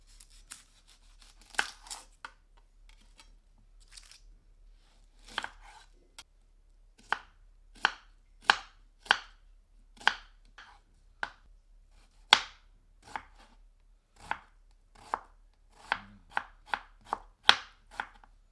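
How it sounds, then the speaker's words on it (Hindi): A medium onion being finely chopped with a knife on a board: sparse taps at first, then a brisk, irregular run of sharp, close knife strikes in a quiet room, no voices. "इसे महीन काट लेते हैं।"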